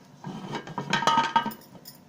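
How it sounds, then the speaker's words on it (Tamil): Metal clanks and clinks as a pressure cooker lid is fitted and pressed shut, a few knocks in quick succession, close by. "இப்போ நம்ம குக்கரை மூடிடலாம்"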